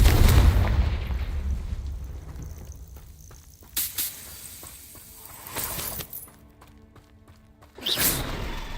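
A Confringo spell blasts in a video game with a loud booming burst at the start, followed by sharp cracking impacts and whip-like snaps spaced out over fading rumble.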